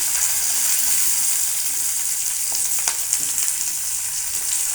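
Diced onions fry in hot oil in a pan, a steady close hiss of sizzling with a few faint clicks and scrapes near the end, no voices.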